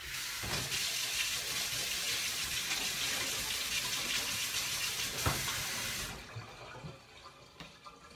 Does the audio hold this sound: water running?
yes